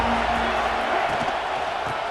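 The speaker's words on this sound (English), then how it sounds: "This crowd ready to make its presence known." A stadium crowd at a college football game in College Football 26 roars in a loud, steady, unbroken wall of cheering, with a commentator's voice talking over it.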